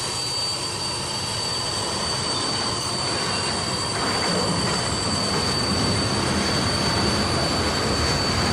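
An HO scale model train climbing the Saluda grade on a layout, a steady rolling rumble with squealing wheels that grows slightly louder, with no talking.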